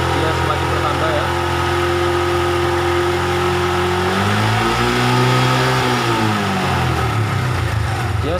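A Honda Revo motorcycle engine with a fault that makes it die when throttled, running steadily and then revved up and back down in a rising and falling whine, loud and close with a voice speaking over it.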